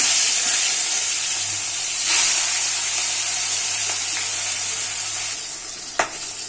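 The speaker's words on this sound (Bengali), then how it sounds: "এদিকে দেখো যে 3টে মাছ ভাজা আমি বসিয়ে দিয়েছিলাম, মাছগুলো প্রায় হয়ে গেছে" Pieces of katla fish fry in hot oil with a loud, steady sizzle and hiss, close up, with a sharp click near the end.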